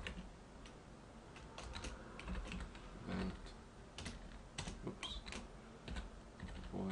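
Rapid, uneven keystrokes clatter on a computer keyboard while code is typed, close and steady with short pauses between bursts.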